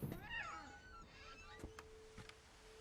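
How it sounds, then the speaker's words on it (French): A cat meows in the video game What Remains of Edith Finch: a drawn-out, bending meow near the start, then quieter clicks and a steady faint hum. "Oh, y'a un chat!"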